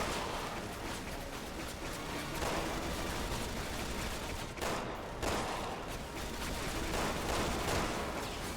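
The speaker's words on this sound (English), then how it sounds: "Just gonna keep shooting this guy in the head." Steady, dense gunfire from Resident Evil 6 keeps up for the whole stretch, a continuous rattle of shots at fairly even loudness with brief dips, no voices over it.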